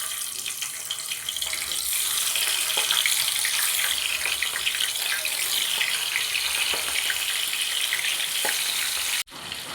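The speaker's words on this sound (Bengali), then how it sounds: "এবার আমি নুন হলুদ মাখানো মাছগুলো এক এক করে দিয়ে দেব।" Giant freshwater prawns marinated in salt and turmeric fry in hot oil, producing a loud, continuous, close-up hiss and crackle that holds steady for several seconds before a brief dip near the end; no voices.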